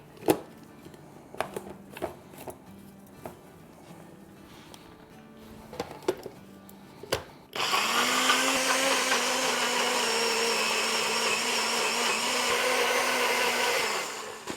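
A kitchen grinder blends chutney ingredients with a loud, steady whir that starts abruptly halfway through and runs continuously to the end, following a stretch of quieter clinks and handling sounds.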